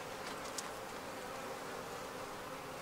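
Bees from a blue-bee colony buzzing steadily inside a hive box during a queen hunt, a continuous soft drone that holds level throughout.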